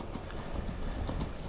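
Horse hooves clip-clop steadily in the video game Skyrim, a continuous close trotting rhythm over a busy game ambience.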